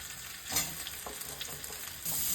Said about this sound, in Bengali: এই আলুগুলো একটু ভাজা হয়ে গেছে এর মধ্যে কেটে রাখা ফুলকপিগুলো দিয়ে দেবো